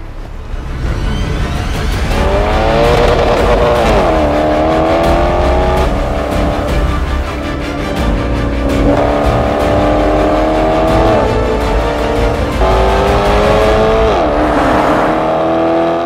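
A Maserati Quattroporte with a front-mounted engine and rear-wheel drive accelerates hard during a performance test, its engine note climbing through repeated gear shifts, loud and close throughout with no talk.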